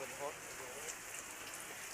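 Rain falls in a soft, steady patter heard on a quiet early morning in the rainy season, faint and even throughout with a brief voice-like sound near the start.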